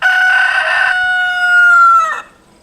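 A single loud, close rooster crow rings out clearly, a long drawn-out call that cuts off sharply at the end.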